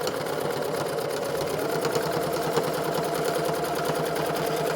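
A sewing machine stitches a fleece headband with a steady, rapid, close mechanical whirring and needle clatter that runs evenly and unbroken throughout.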